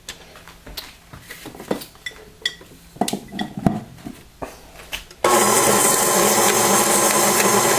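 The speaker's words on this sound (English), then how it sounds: "And then I start mixing." Toll House chocolate chip cookie dough being prepared: several seconds of irregular clinks and knocks of utensils and a bowl, then an electric mixer switches on and whirs loudly and steadily to the end.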